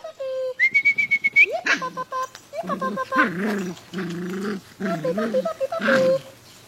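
Six-week-old Biddy x Dale puppies play and growl, with high squeaky yelps and whines early on giving way to repeated rolling growls at close range, and no talk.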